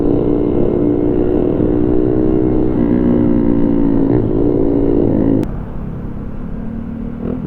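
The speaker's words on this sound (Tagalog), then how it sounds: "Ito may sports bike sa harap ko." A sports motorcycle rides close by during a charity group ride, its engine giving a steady loud drone with a rising then falling pitch before the sound drops to a softer rumble.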